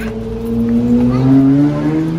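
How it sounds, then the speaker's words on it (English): A motorcycle passes by on a city street in Quebec City, its engine note rising and shifting in pitch as it goes by, fairly close and steady, with no talk over it. "A motorcycle."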